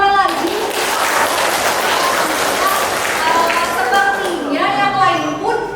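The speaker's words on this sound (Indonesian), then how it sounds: "tepuk tangan lagi" Classroom applause for a student's correct answer, a broad wash of clapping running through most of the moment, with a teacher's voice heard near the end as the clapping fades.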